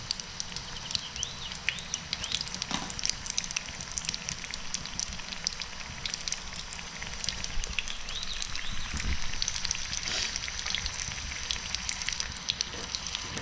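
Snakehead fish fingers fry in hot oil with a steady, fairly quiet crackling sizzle that continues without a break throughout.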